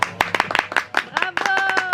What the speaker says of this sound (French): Mais si, il faut applaudir.